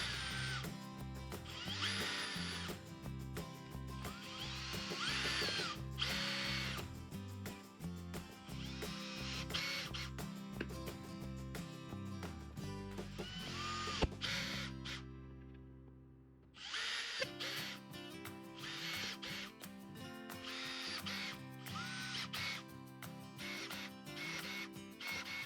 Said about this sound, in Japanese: あとはドリルを使って目印の位置に穴を開けていきます。